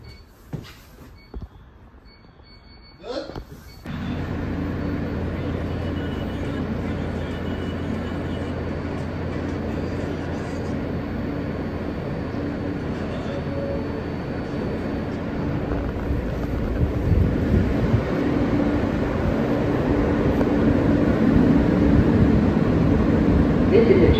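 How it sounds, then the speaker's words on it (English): An F local subway train on the New York City line runs with a steady low rumble and broad noise that swells louder in the final seconds, after a brief quieter stretch with clunks at the start. "This is an 18th Avenue bound F local train."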